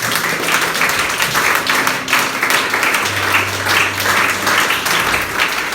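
A church congregation applauds, dense sustained clapping filling the whole stretch, loud and close with cheering hum underneath.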